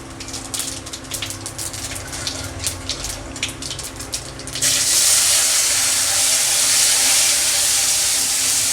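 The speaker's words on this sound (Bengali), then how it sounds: "এবার টমেটোটা কুচিয়ে রেখেছিলাম, টমেটোটা দিয়ে দেব।" Chopped tomato goes into a hot pan of oil for a rohu fish curry, a soft crackle suddenly rising into a loud, steady sizzling hiss up close that continues to the end.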